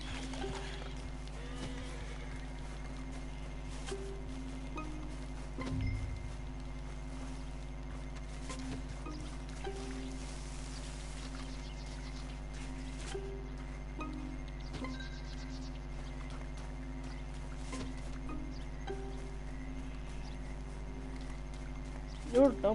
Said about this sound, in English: my horse can't even jump